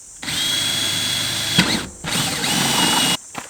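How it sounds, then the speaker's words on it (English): A Ryobi power drill whirs loudly in two bursts as a hole saw cuts a hole in the bottom of a water tank, with a brief pause and a clunk between runs. "I'm going to drill a hole in the bottom down there"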